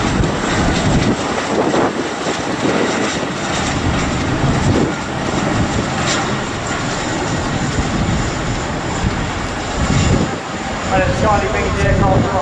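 Propeller aircraft engine droning loudly and continuously during an air show display at Bournemouth, rising and falling with the flight, with wind buffeting throughout.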